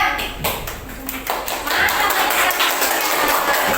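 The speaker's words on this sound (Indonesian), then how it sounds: "Tepuk tangan untuk kelompok 3." Students in an Indonesian classroom clap for a group after its presentation, a dense patter of close handclaps with some thumps and taps running through the clip.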